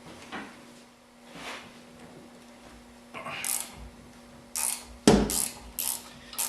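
A 1/2 inch socket on a ratchet backs out bolts from the top of a rear differential, giving several short bursts of clicking close to the microphone, with quieter metallic handling between and louder clustered clicks toward the end.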